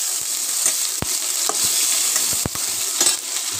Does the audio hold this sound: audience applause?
no